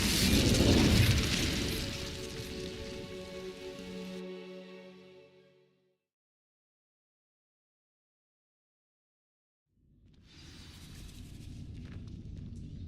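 Incendio fire spell in Hogwarts Legacy igniting dry vines: a loud whooshing burst of flame with crackling that fades to silence, then a softer rushing ambience returns.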